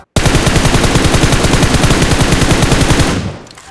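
Automatic fire from an M4 rifle in PUBG Mobile, a loud, fast, unbroken burst of shots lasting about three seconds before cutting off, with no talk over it.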